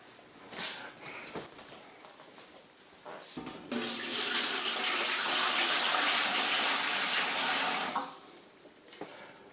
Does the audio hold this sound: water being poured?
yes